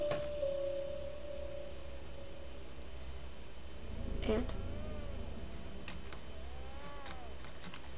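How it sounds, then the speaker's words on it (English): A baby cries in the Slendrina horror video game, heard as faint, rising and falling wails in short bursts over a steady low hum and scattered clicking. "And that was a baby crying."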